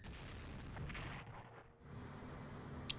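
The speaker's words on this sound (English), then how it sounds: "Bam, another capital ship being destroyed there." A capital ship blown apart in a Strategic Command World War 2 naval battle, heard as a steady rumbling boom of artillery-like fire that dips briefly then resumes, with a sharp small pop near the end.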